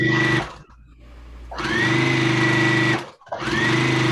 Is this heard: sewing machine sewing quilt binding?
yes